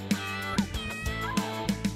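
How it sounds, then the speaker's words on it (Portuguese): Cartoon cat meowing several times in a clear, bright series of short calls over a light musical backing, with no talking. "e o gato mia."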